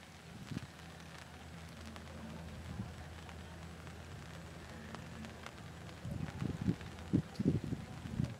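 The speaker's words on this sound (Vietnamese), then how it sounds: "Mưa quá anh em ạ." Steady rain falls at a riverside fishing spot, a soft continuous patter with heavier, closer drops and rustling bursts toward the end; faint voices may sit underneath.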